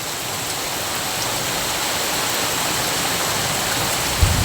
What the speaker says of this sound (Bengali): অনেক সুন্দর বৃষ্টি হচ্ছে।